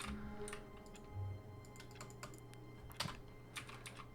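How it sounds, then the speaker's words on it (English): Rapid clicking of a computer keyboard in a video game office setting, quick irregular keystrokes at close range, fairly faint, with no talk over it. "Can I type in the computer?"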